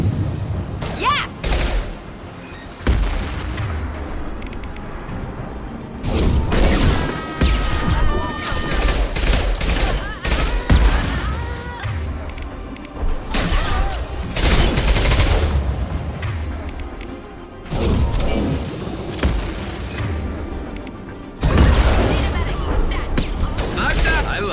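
Sustained rifle fire in Mass Effect 2 Legendary Edition, with loud rapid bursts and crashing impacts running almost the full length, over dense game noise and with a voice talking throughout.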